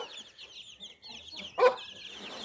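Chickens and chicks on a farm cluck softly and peep in a close, quiet mix of short calls, with one louder squawk partway through.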